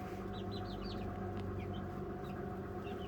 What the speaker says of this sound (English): Most of these are all roosters,